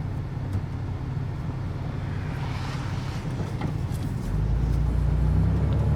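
A 33-year-old Toyota 4Runner truck drives along a road, its engine and road noise a steady low rumble from inside the cab that grows slightly louder toward the end.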